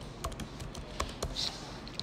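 Light computer keyboard typing gives a quiet series of soft, irregular key taps against a faint background hiss.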